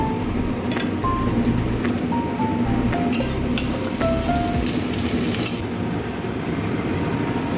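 Crushed garlic, chili and panch phoron sizzle in hot oil over dal, a loud, steady crackling hiss with a few metallic clinks from a utensil against the pan.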